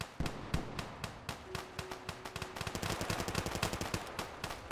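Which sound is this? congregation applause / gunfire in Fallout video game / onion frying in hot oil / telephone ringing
gunfire in Fallout video game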